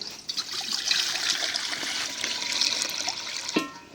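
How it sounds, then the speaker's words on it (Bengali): Water poured into a karai cooking pan makes a steady, close splashing gush that runs for a few seconds with no pause, ending with a small knock. "দিয়ে দিলাম পানি"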